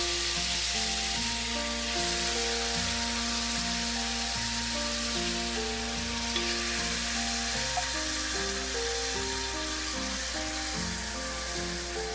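About 1.5 pounds of washed mutton pieces fry in hot oil for a mutton curry, a steady, dense sizzle that continues unbroken throughout, with a tonal hum underneath.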